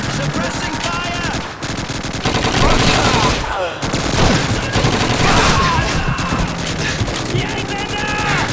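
Heavy suppressing machine-gun fire in the World War II shooter Call of Duty 2, continuous loud rattling bursts with shouted voices mixed in over the battle din.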